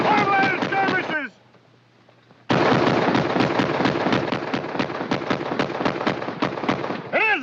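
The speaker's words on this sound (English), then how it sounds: "It is a Gatling gun!" A Gatling gun fires in long, rapid bursts of sharp, loud cracks during a Western drama attack scene, with shouting voices mixed over the first burst, a brief quiet gap, then another sustained burst.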